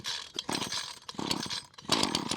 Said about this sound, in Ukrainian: Тому запускаємо цю тарантайку і будемо далі продовжувати косити бадилля.